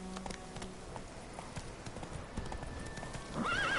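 Hooves of Roach, the horse in The Witcher video game, pounding in a quick galloping rhythm, close and steady, ending with a loud whinny.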